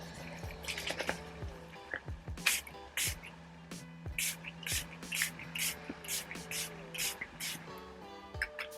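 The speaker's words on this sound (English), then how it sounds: "I'm going to use my Make It Last setting spray from Milani." Short, sharp hisses of Milani Make It Last setting spray come in quick repeated bursts, close and fairly quiet, with small clicks between pumps.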